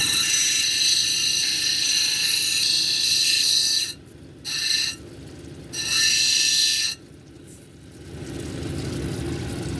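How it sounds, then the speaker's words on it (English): A Summerville lace agate cabochon is ground on an 80 grit wheel, a steady high whine of stone against the wheel that breaks off into short pauses and bursts before fading to a lower hum. "So let's start grinding."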